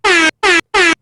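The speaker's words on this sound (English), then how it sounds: "The air horn extraordinaire." Three loud, sustained air horn blasts in quick succession, each about a quarter second long with brief silent gaps between them, alone with no talk.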